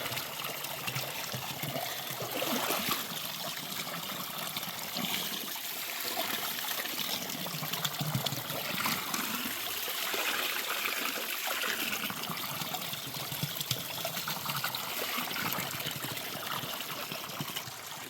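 Items are washed by hand with fetched water outdoors in an African village, with a steady close trickling and splashing of water and no talk.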